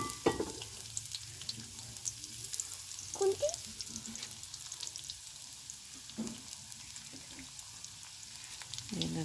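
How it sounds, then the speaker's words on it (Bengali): Steady sizzling of onion and garlic frying in hot oil, with occasional stirring clinks and scrapes, close by and fairly quiet. "পেঁয়াজ রসুন দিয়ে দিলাম একটু ভাজা ভাজা হলে"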